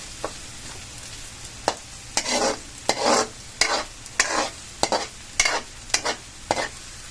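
Garlic and other ingredients for higado sauté in a pan, giving a steady low sizzle. Repeated scrapes and stirring strokes come through near and fairly loud, about a dozen in rhythmic bursts, with no talking.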